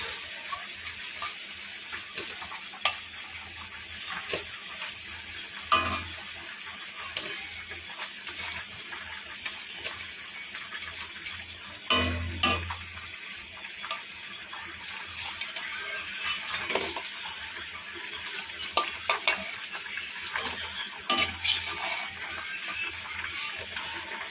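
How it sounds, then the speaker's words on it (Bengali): Prawn fritters sizzle in hot frying oil with a steady hiss and scattered small crackles and pops that run on evenly, with no voices. "লাল লাল করে ভেজে নিয়েছি, এবার তুলে নেব"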